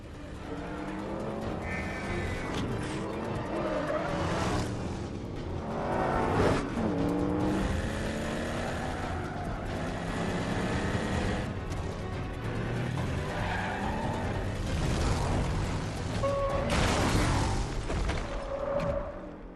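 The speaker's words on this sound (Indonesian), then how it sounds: "John pun pergi mengejar Rock dengan mobilnya. Tapi di tengah jalan, Rock berhasil mengelabui John dan membuatnya menabrak pembatas jalan" Cars racing in a chase, with engine roar, tyre squeals and skids building toward a crash into a roadside barrier, loud and continuous with no talk.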